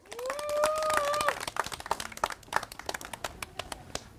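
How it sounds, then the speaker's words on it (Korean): A gathered crowd of walkers on an anti-nuclear pilgrimage claps to welcome a speaker, scattered sharp hand claps that thin out into sparse, uneven slaps, with a long tonal whine sounding over the opening claps. "예, 힘찬 박수를 모시겠습니다."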